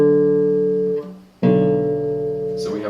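Bass guitar sounding a minor chord shape, a sustained low chord ringing out alone, cut off briefly, then struck again and left to ring close and steady.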